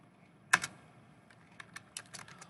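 Close computer keyboard typing as Java code comments are written: one sharp initial keystroke, a pause, then a scattered run of lighter clicks.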